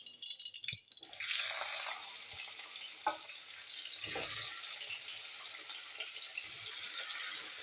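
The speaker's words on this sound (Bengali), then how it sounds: "কলা আলু আমি একটু ভেজে নেবো।" Pieces of raw banana and potato, coated in turmeric and salt, sizzle steadily in hot oil, a dense continuous frying hiss close by, broken by a few soft knocks and stirring clatters.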